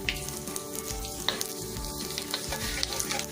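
Cumin seeds sizzling in hot oil for chicken biryani masala, a steady, close crackle and hiss with faint stirring, no voices.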